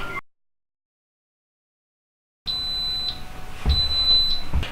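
An Instant Pot DUO60 6-quart multi-cooker signals the end of its rice cooking timer with two sustained high-pitched electronic beeps, close and clear, following a stretch of silence.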